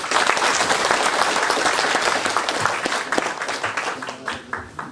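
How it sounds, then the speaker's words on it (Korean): Audience applause at the 16th Nogunri Peace Prize award ceremony at Nogunri Peace Park, a full crowd clapping steadily and fairly close, with a few sharper individual claps poking through as it gradually thins toward the end. "감사의 박수 한번 부탁드리겠습니다"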